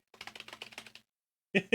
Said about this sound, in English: You guys can hear me typing, right?